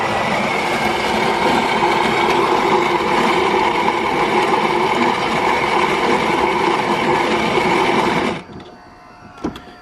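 An espresso machine grinder runs with its bean hopper shaking, making a loud, continuous whirring rattle for about eight seconds before it cuts off, leaving a quiet pause and a couple of small clicks.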